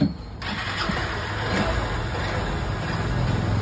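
A vehicle engine runs steadily during a sound check after fitting work, a continuous broadband rumble heard close and loud throughout with no talk over it.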